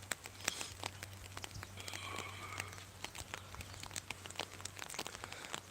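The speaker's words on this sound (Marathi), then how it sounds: "सध्या अवकाळी पावसाचे पडतोय" Light unseasonal rain patters steadily on a surface over farm fields, with scattered drips and clicks over a low constant hum, fairly faint.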